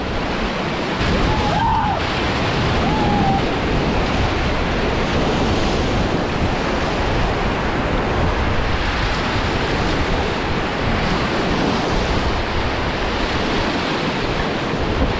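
Whitewater river rapids rush in a loud, steady roar during a rafting run, with wind buffeting the microphone throughout.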